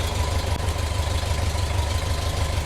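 A 1972 VW bus engine idles steadily while warming up, a continuous low rumbling drone with an even throb, loud and close with no voices.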